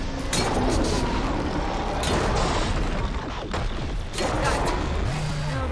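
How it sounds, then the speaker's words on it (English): Dense, continuous explosions and heavy combat blasts in the Horizon Forbidden West Burning Shores video game, booming and crashing loudly and close, with a few sharp bursts standing out in the roar. "The explosions are kind of redundant."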